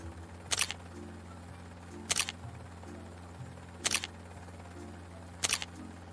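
Four crisp camera shutter clicks sound at roughly even intervals during a selfie in front of a helicopter before a ride, close and distinct over a low steady background hum.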